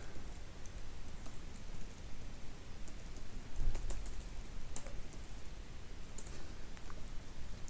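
Steady clicking of keys being typed on a computer keyboard as a web domain is entered, a continuous close patter of light taps with a few sharper clicks, no voices.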